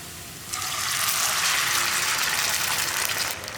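Water, one and a half cups, poured into a pan of browning onions while making kozhukkatta, a steady close gushing splash that starts abruptly and runs for about three seconds before easing off.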